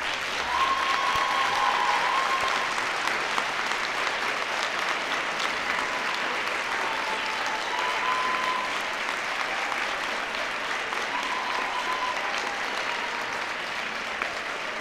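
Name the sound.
audience applause at graduation ceremony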